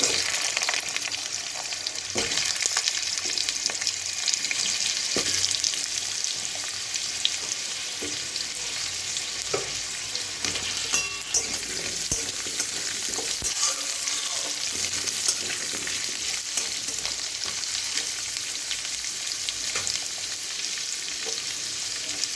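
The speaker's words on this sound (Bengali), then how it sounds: "আলুগুলো ভালো করে ভাজা হোক" Cut potatoes frying in a pan for potol kosha, with a steady dense sizzle and occasional scraping stirs running throughout, fairly close and without voices.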